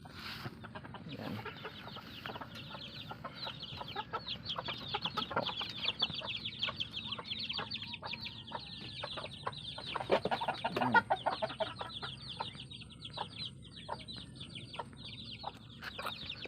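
Chickens cluck softly and continuously around a rural chicken coop in the provinces, scattered calls at low level against a quiet outdoor background.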